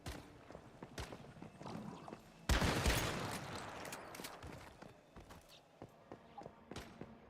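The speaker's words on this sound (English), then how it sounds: "Shooting people and exploding heads." Gunfire in the online survival shooter Once Human: a burst of several sharp shots with a loud barrage near the midpoint, amid other game noise and a person talking.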